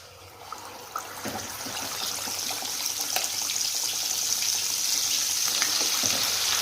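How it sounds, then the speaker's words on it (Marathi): Spice paste frying in hot oil for an aloo baingan bhaji, a steady broadband sizzle that builds and holds, with faint occasional clicks of stirring and no talking. "तेल गरम झालं आहे आपलं, पेस्ट होऊ द्यायची तेलात."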